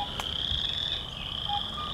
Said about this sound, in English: You hear all around you both the calls of the western chorus frog and the sort of growling call of the wood frog